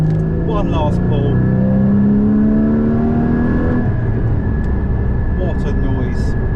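A Porsche GT4 accelerates hard in a full pull, its engine note climbing steadily and loud from inside the car, then easing off as a voice speaks over the tail of the run.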